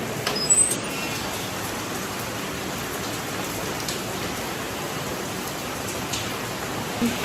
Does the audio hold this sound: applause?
no